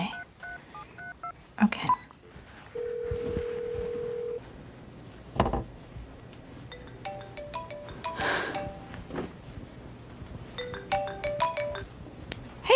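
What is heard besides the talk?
telephone being dialed, then ringing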